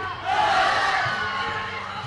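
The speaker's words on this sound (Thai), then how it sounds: "โอ้โหเสียงเชียร์สร้างบรรยากาศได้ดีเลยครับ" A crowd at a Thai boxing match cheers in a sustained, swelling roar with a drawn-out chant rising above it, all at a steady, fairly loud level.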